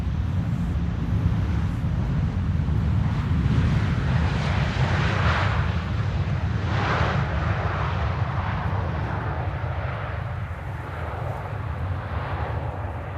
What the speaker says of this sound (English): Transavia returning from the airport closest by to Wolfgang if he wants to fly Transavia.